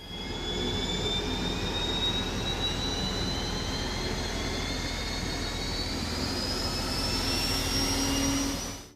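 An M1 Abrams tank's 1,500-horsepower turbine engine runs steadily, a loud, continuous jet-like roar with a high whine that slowly shifts pitch, holding unbroken for about eight seconds before cutting off, with no voices.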